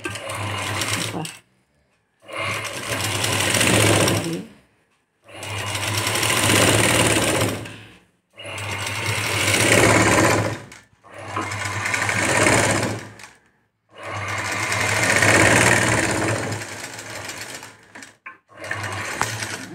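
Sewing machine stitching lace onto a blouse sleeve, loud, close whirring runs of several seconds each, separated by short pauses, repeated five or six times.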